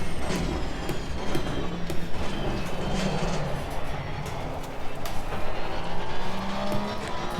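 GT racing car accelerating hard out of a corner in Assetto Corsa Competizione, engine roaring steadily and continuously at close range, climbing through the gears with no talk over it.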